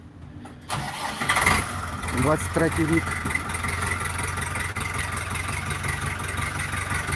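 A Dongfeng 244 mini tractor engine cranks and catches with a burst of starter chatter, then settles into a steady close idle while someone speaks briefly.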